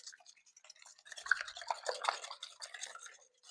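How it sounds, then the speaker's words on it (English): A whisk beats eggs and spices for a crustless quiche, making faint, quick clinking and swishing taps against a bowl close by. "using the whisk, you can get it really nicely blended"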